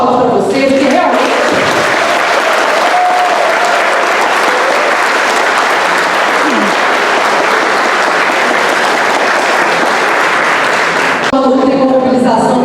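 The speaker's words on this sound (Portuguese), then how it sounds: "Então eu queria só começar com uma salva de palmas para vocês" An audience at a Brazilian political rally against the privatization of public utilities bursts into loud, sustained applause that lasts about ten seconds, with a voice speaking briefly before and after it.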